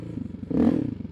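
Engine of a Honda TRX700XX ATV running on a test ride: a close, low, throbbing idle with one brief throttle blip that swells and fades within about a second.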